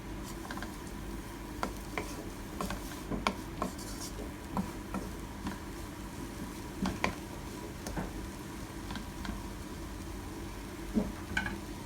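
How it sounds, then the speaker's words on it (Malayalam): A banana flower mixture being stirred in a hot pan for cutlets, with a soft continuous sizzle broken by irregular scraping clicks and taps of the spoon against the pan. "നമ്മൾ ഇളക്കിക്കൊണ്ടിരിക്കുവാണ്."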